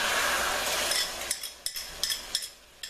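Eggs sizzle and pop in a hot skillet, a loud broadband hiss that fades after about a second into quieter sizzling broken by several sharp pops and clicks.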